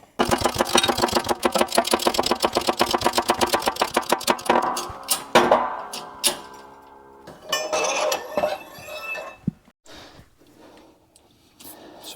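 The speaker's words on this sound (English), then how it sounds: "we're going to go ahead and get the bearing pressed in." A bearing being pressed into a Ford 8.8 axle with a press: rapid, rhythmic mechanical pulsing for several seconds, then scattered sharp metallic clinks and knocks close by.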